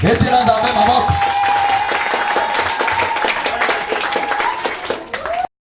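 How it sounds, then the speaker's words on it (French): A church congregation at a mission service claps together for the Lord in loud, dense, steady applause lasting several seconds, with a sustained keyboard-like tone and raised voices mixed in. "Applaudissons pour le Seigneur"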